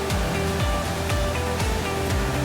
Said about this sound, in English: Lots of waterfall around